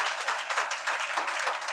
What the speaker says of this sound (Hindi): जोरदार ताली बजाओ परमेश्वर की